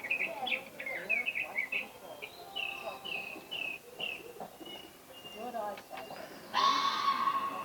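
A recorded sage thrasher call playing from a museum exhibit button in Cody, Wyoming: a run of quick, warbling, chirping phrases repeated in a rapid series, fairly faint, ending in a sharper burst of sound.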